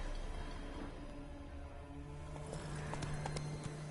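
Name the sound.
horse Roach's hooves in video game The Witcher 3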